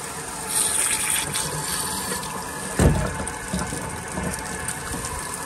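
Dirty, sediment-laden water drains from a residential water heater tank during an anode replacement, a steady rushing flow with one brief louder gush partway through.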